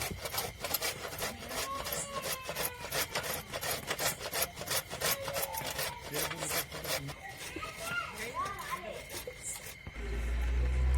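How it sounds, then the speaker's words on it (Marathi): Dried coconut is grated by hand for rice kheer, producing rapid, rhythmic rasping strokes that scrape close to the listener and continue steadily with brief pauses. "खिरीसाठी आपल्याला खोबरं म्हणजे कापून पण टाकता येतं आणि किसून पण तर आज आम्ही किसूनच टाकणार आहे"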